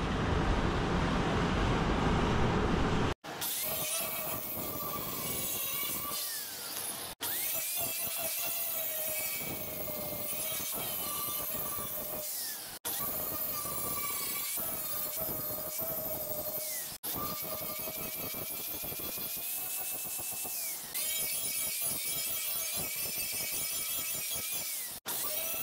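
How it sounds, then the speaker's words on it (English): A hard grinding wheel works sheet metal on a Chevy cab in a loud, continuous high-pitched whine with a harsh scraping edge, broken into several passes by brief cutoffs, close and alone. "Do a little grind, blow it off there."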